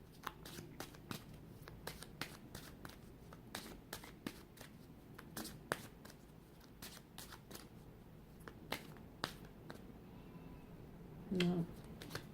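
A deck of playing cards is shuffled repeatedly in a quiet room, producing a series of crisp, close riffling bursts at irregular intervals with soft handling noise between them.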